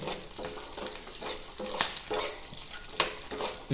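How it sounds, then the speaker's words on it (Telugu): Peanuts and curry leaves sizzle in hot oil while a spoon stirs them in a pan for a ridge gourd chutney, a steady close fry with repeated scraping strokes and sharp clinks of utensil on metal. "ఇప్పుడైతే పల్లీలు వేసుకున్నాను ఇవి కొంచెం వేగేదాకా కలుపుదాము పల్లీలు అండ్ కరివేపాకు"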